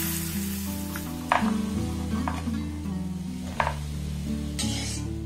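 Palm fruit fritters (taler bora) sizzle steadily in hot oil under a continuous hum, with a few brief clinks and stirring scrapes breaking in near the middle and end.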